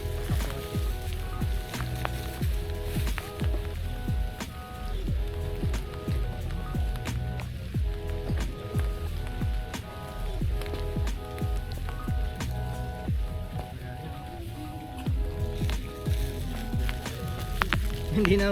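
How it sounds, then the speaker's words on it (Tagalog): Rain falling at a pond during a fishing outing, steady patter with distinct drops hitting nearby surfaces, moderately loud and continuous, with faint background tones. "So pumatak yung ulan"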